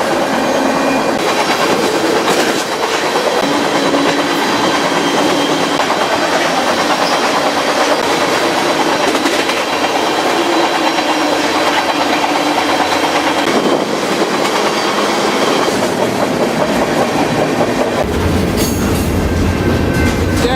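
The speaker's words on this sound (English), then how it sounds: "the train is going to go into the Lincoln Yard now" A freight train rumbles past continuously with clattering wheels and metallic rattling, loud and close throughout, heading into a rail yard near Lincoln.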